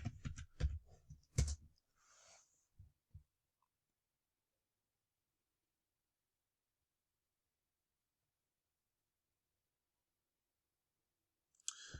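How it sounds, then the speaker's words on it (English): Quick keyboard typing at a computer during login, a short burst of close, crisp key clicks in the first few seconds, then long silence and a brief click at the end. "Let me see if I can type this in real quick."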